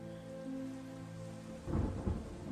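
Rain patters against a window in a film scene, a soft steady wash of falling drops under a sustained low musical tone, swelling into louder, rougher rumbling gusts near the end.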